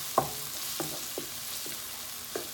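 Minced kofta sizzles in a pan with onion and pepper, a constant soft frying hiss punctuated by several light taps and scrapes as the mixture is stirred.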